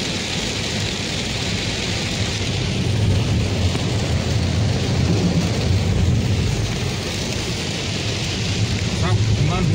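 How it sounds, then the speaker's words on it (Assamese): Heavy rain pounds on a moving car whose wipers have failed, a dense, loud, continuous roar with a low rumble underneath, steady across the whole stretch. "বন্ধুসকল বহুত বৰষুণ দিছে, তামাম বৰষুণ দিছে।"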